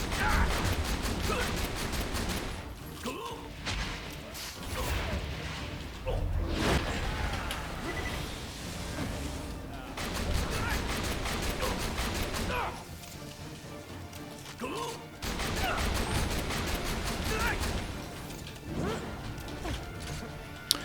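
Rapid gunfire from the Conference Call shotgun and an SMG, fired by Maya against the Handsome Sorcerer in Borderlands on Ultimate Vault Hunter Mode: dense, loud, crashing bursts come in repeated volleys across the whole stretch, with brief lulls between them.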